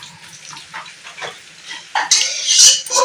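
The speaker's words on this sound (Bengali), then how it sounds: "আমি এবার একটা পাত্রের মধ্যে ঢেলে নেব" Cooked dal with Malabar spinach is transferred from a pan into a pot: quiet scraping of a utensil, then a louder, wet rushing pour near the end.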